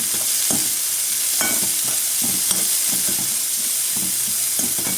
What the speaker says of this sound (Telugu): ఇది కొంచెం ఫ్రై అవుతూనే బాగుంటాయి అన్నమాట స్ప్రింగ్ ఆనియన్స్